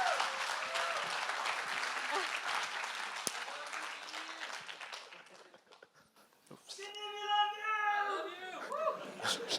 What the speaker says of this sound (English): So let's give applause to his parents and to him.